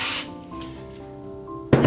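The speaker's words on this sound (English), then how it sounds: "we're going to give it a spray" Two short hissing bursts of spray adhesive misted onto quilt batting, one at the start and one at the end, with a quiet tonal hum between them.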